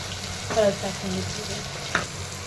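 Mint, curry leaves and asafoetida sizzle in hot oil for green-pea rice, a steady low crackle of frying with a brief stir and a couple of sharper spatters, close by and fairly quiet.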